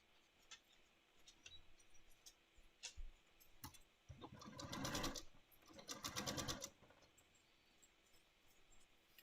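A sewing machine stitches quilt blocks together into one whole block, running in two quick mechanical bursts of rapid whirring and clicking separated by scattered small clicks and handling noises, close but quiet.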